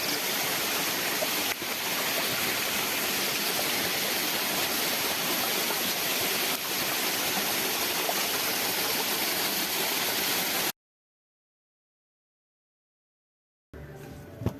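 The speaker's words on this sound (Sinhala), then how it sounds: "මේ වීඩියෝ එක පුරාවටම ඇහුණ ශබ්ද වටපිට දියඇලිවල වතුර ගලාගෙන යන සද්ද එහෙම ගොඩාක් ඇහෙනවා" Water rushes through streams and waterfalls along a forest trail, a broad, constant roar that stays loud and near for about eleven seconds before a gap and a brief return.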